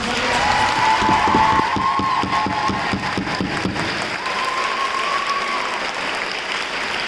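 Loud audience applause with cheering at an anime convention K-pop performance, dense clapping that holds steady before easing slightly, a whistle-like tone riding over the crowd.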